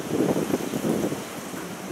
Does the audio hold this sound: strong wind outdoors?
yes